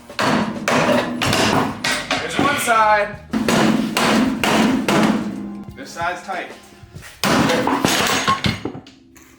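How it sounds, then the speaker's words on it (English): Heavy, repeated hammer blows ring out against metal suspension parts of a 1965 Mustang in loud bursts, with someone speaking briefly between the strikes. "I'm gonna hit it with a hammer until it does"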